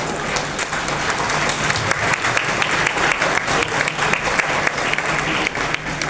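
A crowd at a lecture in Varanasi applauding continuously, dense clapping from many hands in a hall, steady and fairly loud throughout.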